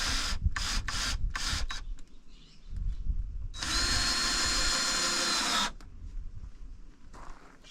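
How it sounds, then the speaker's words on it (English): Power drill driving screws flush into a Jeep Wrangler camping build, several short whirring bursts followed by a longer steady high-pitched run, loud and close with no speech. "Sometimes I gotta drill these twice."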